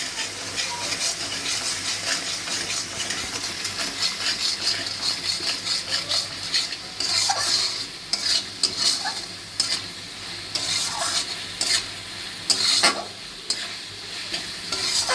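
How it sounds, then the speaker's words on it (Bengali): Ground spices sizzle and fry in hot oil for a tengra fish curry while a utensil stirs and scrapes the pan in steady strokes, with no talking. "মশলাটা ভালো করে কষাই, কষি তারপর জল ঢালবো"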